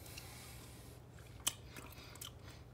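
Biting into a frozen SpongeBob popsicle, with a single soft crunch at close range followed by faint chewing. The recording is very quiet, over a low, steady background hum.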